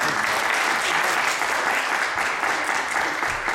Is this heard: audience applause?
yes